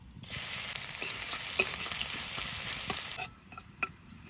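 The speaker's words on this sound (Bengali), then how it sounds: "অল্প করে কটা কালো জিরে আর অল্প দুটো ধনে দিয়ে দেবো এইবার অল্প রসুন দিয়ে দেবো" Nigella seeds, coriander seeds and garlic tempering in hot oil with dried chili and bay leaves, a bright close sizzle that flares, crackles with a few pops, then drops to quieter spits.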